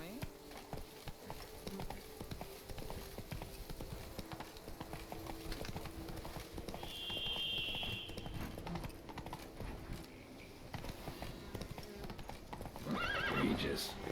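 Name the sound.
horse hooves and neighing in the video game Witcher 3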